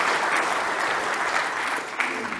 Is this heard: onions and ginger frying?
no